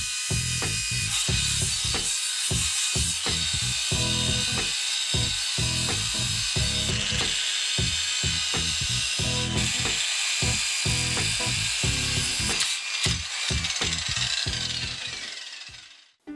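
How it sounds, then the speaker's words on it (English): A soft-start angle grinder with a sanding pad shapes a wooden climbing hold. It gives a loud, steady, close grinding roar that runs almost the whole time, with rhythmic pulsing thuds as the pad bites the wood, and dies away at the end. "I would also recommend going with a soft start angle grinder."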